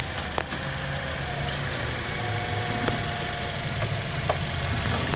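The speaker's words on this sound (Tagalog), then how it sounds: "Pero sa diagnose ko, sa transmission galing ang ingay." A Toyota Altis idles with a steady low rumble under a faint whine near the front wheels from a suspected transmission fault, punctuated by a few sharp ticks and clicks, close and moderately loud.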